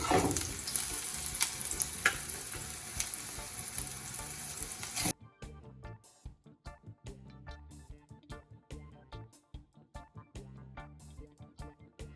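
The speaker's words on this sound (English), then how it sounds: "now I'm going to go ahead and place it into my pan over here" Ground beef hits a hot frying pan with a loud, steady sizzle that cuts off abruptly, followed by quieter crackling and rhythmic stirring scrapes, up close and without speech.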